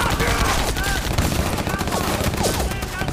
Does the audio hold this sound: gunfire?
yes